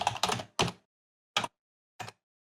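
Code is typed on a computer keyboard in quiet, close-up bursts: a quick cluster of keystrokes, then two isolated taps separated by silence.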